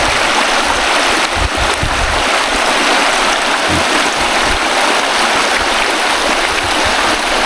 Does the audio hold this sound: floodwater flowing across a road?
yes